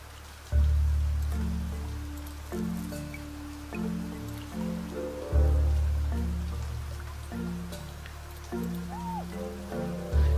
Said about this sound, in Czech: Okay, prší.